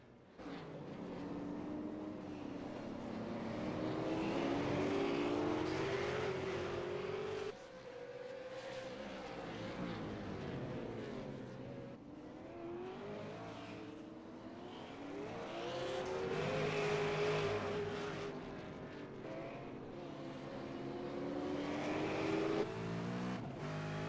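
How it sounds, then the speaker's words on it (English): V8 Supercar race cars lap the Oran Park circuit during a championship final round, their engines droning loudly and continuously, rising and falling as cars rev, accelerate and pass, with no talk. "One of the blue flag racing cars there in the background just got a little bit sideways."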